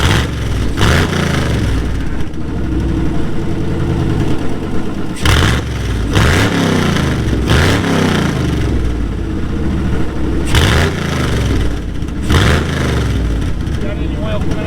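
A car engine on a vehicle with no oil pressure, revved repeatedly in sharp bursts that drop back to a rough idle, about six rises over the span, loud and close under intermittent voices.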